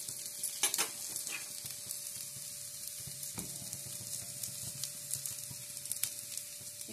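Homemade onion paratha turned over on a hot pan greased with homemade desi ghee, giving a steady close sizzle with a few sharp clatters as it is flipped and moved.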